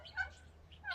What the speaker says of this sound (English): That's their little noise that the guineas make.